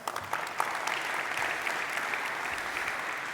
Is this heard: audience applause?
yes